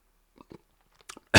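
Someone chews a hot pepper close to the mic, with a few soft wet bites and crunches, then a louder burst right at the end.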